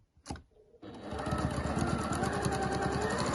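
Sewing machine stitching a seam on a fabric storage pod, starting after a short click and then running steadily with a fast, even mechanical rattle, close and fairly loud.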